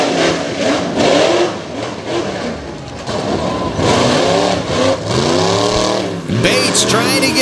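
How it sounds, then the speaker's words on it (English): A modified tough truck at a 2021 Hughesville tuff truck race, its engine revving loud and close in rising, sweeping bursts that run continuously through the stretch. "Joey Bates, second generation tough truck racer in Purple Rage."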